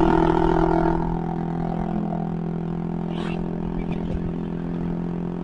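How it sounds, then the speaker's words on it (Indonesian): A Honda Vario 125 scooter with an aftermarket exhaust runs nearby, a steady droning hum with a louder rev at the start that settles to an even idle, with faint background sounds. "Jadi kayak gini ya guys ya suara knalpotnya nih."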